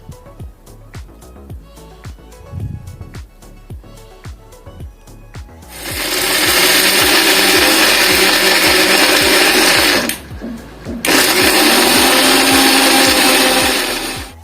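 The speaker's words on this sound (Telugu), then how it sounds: "ముందుగా ఇవన్నీ వేసి గ్రైండ్ చేసి ఆ తర్వాత కొంచెం కొంచెంగా వాటర్ యాడ్ చేసుకొని గ్రైండ్ చేసుకోండి" A mixer grinder grinding coconut chutney whirs loudly in a sustained roar, briefly stopping and restarting, after a quieter stretch of rhythmic tapping and clatter.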